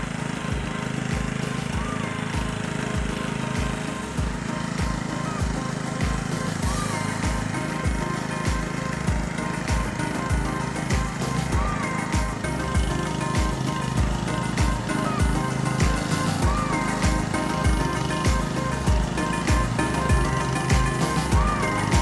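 A utility mower scalping a lawn of TifTuf grass during spring renovation, its engine droning steadily and loudly throughout with a rough, rhythmic low pulsing and no break.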